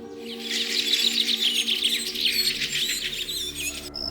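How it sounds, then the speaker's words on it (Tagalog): Several birds chirp and trill continuously in a busy chorus, fairly close, with a steady low background hum beneath them. "sa huni ng mga ibon"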